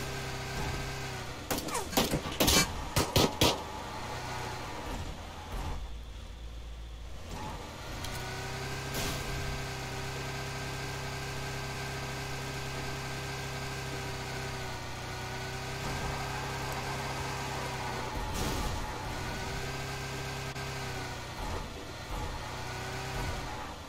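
Vehicle engine in the PUBG video game runs steadily throughout, a continuous mid-pitched drone that swells as it revs, with a cluster of sharp impacts near the start.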